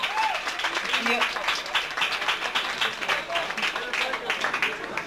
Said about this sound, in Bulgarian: ръкопляскайте Дуо Ментаров